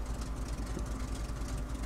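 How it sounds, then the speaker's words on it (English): A tank engine idles steadily in a video game, a low continuous rumble that holds close and even throughout with no one talking. "So listen to that engine idling away."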